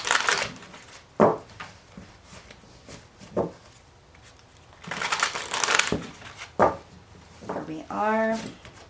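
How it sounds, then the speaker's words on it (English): Tarot cards are shuffled in several quick riffling bursts, with a voice speaking briefly between them. "we're going to do 2 more shuffles"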